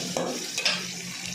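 Food fries on a small gas stove and is stirred, with a brief close scrape of the spoon over a soft, quiet sizzle.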